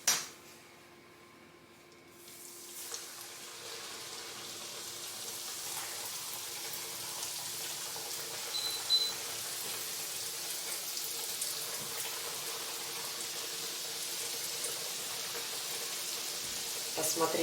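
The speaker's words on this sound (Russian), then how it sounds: "Жарить кребли вот буду в большом количестве растительного масла." Krebli dough frying in a large amount of vegetable oil over moderate heat: a steady, close crackling hiss like rain that starts after a quiet moment and continues evenly throughout.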